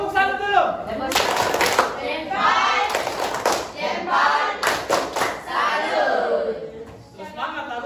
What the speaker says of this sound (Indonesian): Tepuk satu dulu.